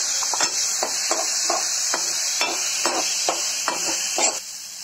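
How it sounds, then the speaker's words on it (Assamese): Potatoes sizzle steadily in a hot pan while a spatula scrapes and stirs in a series of regular strokes. "আলুখিনি অকণমান ভাজি লওঁ"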